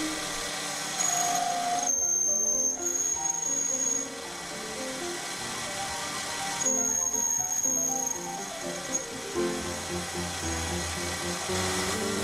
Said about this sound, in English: I used this boring tool to cut a 2mm groove in the back of the hole for the thread tool to start in.